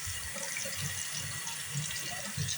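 Tap water runs steadily over a hand held under it in a kitchen sink, a constant close hiss and splash with no talk.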